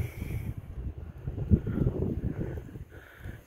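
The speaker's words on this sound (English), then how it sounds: "It's very windy today again" Gusty wind outdoors on a clay-soil roadside near Normanton and Southwell rumbles low and steadily against the microphone, fairly faint, with no one speaking.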